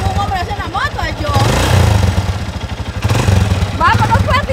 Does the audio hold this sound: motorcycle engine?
yes